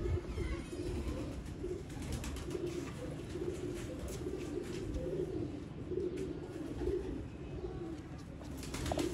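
Sialkoti rooftop pigeons coo steadily in low, throaty repeated calls, with a busy background of fluttering and faint chirps close by.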